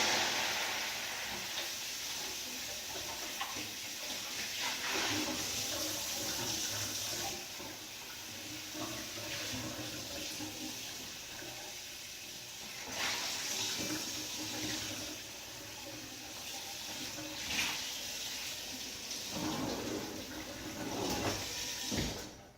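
Water poured onto a hot pan while making grilled cheese sends up a sustained hiss of steam and sizzling, swelling and fading in waves over about twenty seconds at low volume, with no talking.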